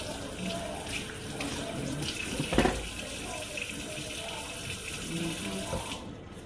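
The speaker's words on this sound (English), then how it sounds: "And wash your vegetables, wash them." Tap water runs steadily into a sink as vegetables are washed beneath it, a continuous close rushing hiss with a brief splashing clatter midway before it stops near the end.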